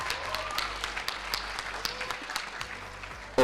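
At a national ICT summit award presentation, a crowd applauds with steady, moderate clapping that stays fairly even before a brief voice at the end.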